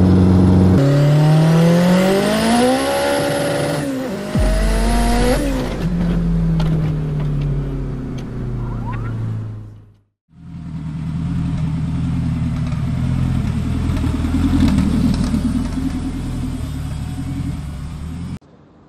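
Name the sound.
all-wheel drive Honda Civic race car engine during ridealong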